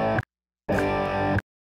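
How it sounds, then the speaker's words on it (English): A guitar chord passes through a noise gate set to zero, the sustained tone breaking up with a buzzy, gritty distortion and cutting off abruptly into silence between two bursts. "if I put it to 0, it introduces some distortion"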